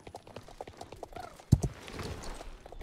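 Hooves of a horse in the online riding game Star Stable Online, with soft clip-clop steps, a sharper cluster of hoof knocks near the middle and a low game backdrop.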